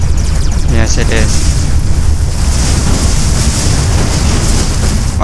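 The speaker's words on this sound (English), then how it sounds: "Wow, that was a big explosion." A big explosion in the space-combat video game Everspace, a loud, sustained rumbling boom with roaring wind-like noise filling the whole stretch, dense and close, with a brief higher warble near the start.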